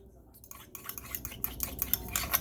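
Barbecue potatoes are stirred in a Ninja cooker pot, with a metal utensil scraping and knocking against the pot in a quickening rhythm of close, clattering strokes.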